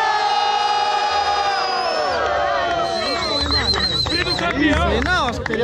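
At a rap battle final, the crowd breaks into loud, dense cheering for a rapper. Whoops, shouts and whistles pile on top of each other, with an MC's voice fading into the roar.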